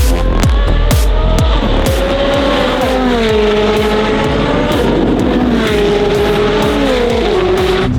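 A 1600-horsepower Koenigsegg race car on a record attempt roars past close by, a loud engine whine climbing and shifting through gears with sharp pops, steady and dominant.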